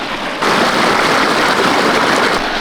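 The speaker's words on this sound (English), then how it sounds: "there's this creek, a babbling brook" Steady rushing water from a nearby creek, a continuous broadband babble that swells slightly after the first half second.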